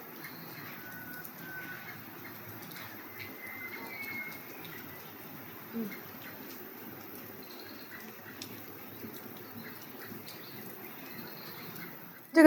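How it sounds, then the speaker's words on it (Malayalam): Birds call faintly in the evening at a resort in Vagamon, with scattered chirps and soft cooing over a quiet outdoor background. "കിളികളുടെ ശബ്ദമൊക്കെ കേട്ട് അങ്ങനെ ഒരു ഈവനിങ്ങിൽ അങ്ങനെ അങ്ങ് നിൽക്കാം."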